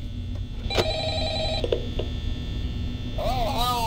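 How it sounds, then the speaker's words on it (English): A telephone rings in Five Nights at Freddy's, its bright electronic ring tones repeating over a steady game hum, with a warbling tone sweeping in near the end. "Okay, phone call."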